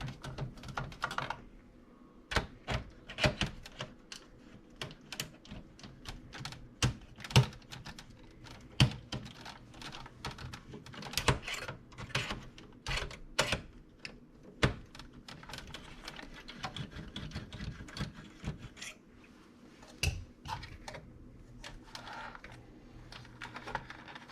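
Screws being worked out of an original Xbox 1.0 console, a long run of small irregular clicks and ticks from a screwdriver and metal parts, close and fairly quiet, with no one talking.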